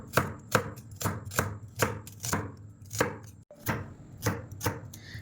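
Onions being chopped with a knife on a board, a rapid even run of sharp thuds at roughly two per second, close and clear with no talking.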